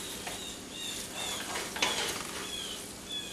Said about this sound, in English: we're just going to mix it in here with our vegetables and kind of break it up a bit